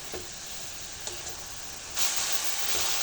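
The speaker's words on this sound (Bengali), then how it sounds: "তিলটা দিয়ে আমি ভালো করে মিশিয়ে নেব একসঙ্গে।" Toasted sesame seeds are stirred and mixed in a pan for sesame sweets, with a few light scraping strokes over a gentle steady hiss that swells louder in the final second; no one speaks.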